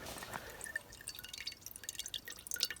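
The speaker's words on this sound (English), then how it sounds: "So I'm just filling up my water bottle again before we go. With this Life Straw water filter." Filtered water trickles from a LifeStraw filter into a water bottle outdoors on a windy mountaintop. Soft, irregular drips and small splashes run quietly and steadily throughout.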